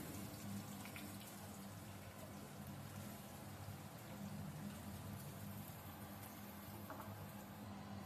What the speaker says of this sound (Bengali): পনিরটা হালকা করে ভেজে নিই